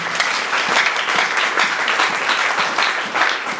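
A church congregation claps together in dense, sustained applause that stays loud and even throughout, with no clear voices on top.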